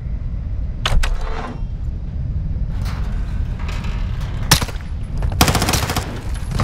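Close-range gunfire in Call of Duty: Modern Warfare II, sharp shots ringing out near 1, 4.5 and 5.5 seconds, the last a rapid burst like a short automatic spray over a low, steady background rumble.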